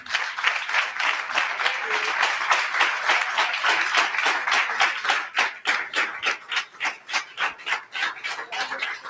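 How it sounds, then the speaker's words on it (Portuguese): A church congregation applauds during a service, a dense, close burst of clapping that thins toward the end into a slower, rhythmic unison clap. "Dê um aplauso a Jesus."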